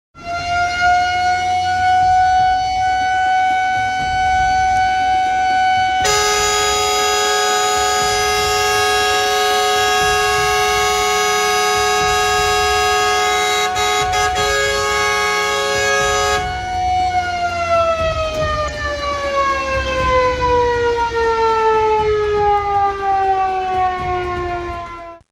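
Loud fire truck siren wailing continuously in a narrow street in Bandung, with a blaring air horn cutting in over the middle stretch before the siren's wail resumes and slowly falls in pitch.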